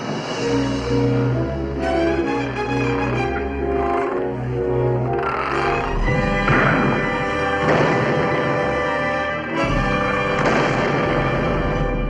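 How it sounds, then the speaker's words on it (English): Scattered gunshots and bursts of fire from a battle scene in a 1982 American Civil War miniseries crackle at a distance under a loud, sustained orchestral score. "They're under fire."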